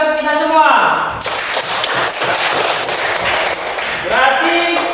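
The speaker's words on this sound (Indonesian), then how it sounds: "Tepuk tangan untuk kita semua." Workshop participants break into group applause, a loud, dense burst of many hands clapping that fills most of the clip, with speech heard briefly before and after it.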